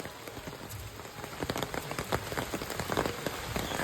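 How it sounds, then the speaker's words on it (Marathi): Heavy rain pours steadily on surfaces outdoors in the Konkan region, a dense continuous patter that swells slightly louder toward the end, with no voices. "एवढा पाऊस पडतोय छत्री नव्हती आणली"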